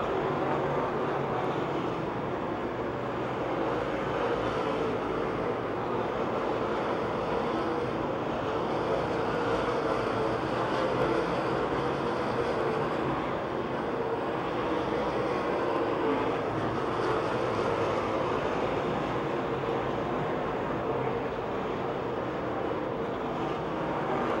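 Race cars roaring around the Pennsylvania Motor Speedway oval near Pittsburgh, a steady, loud engine drone that holds without a break as the field runs down the back straightaway.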